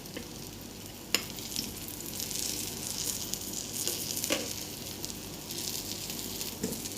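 Scrambled egg with tomato and onion frying in a pan, a steady close sizzle with soft scraping and a few sharp clatters as the mixture is flipped.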